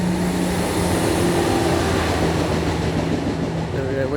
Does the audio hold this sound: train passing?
yes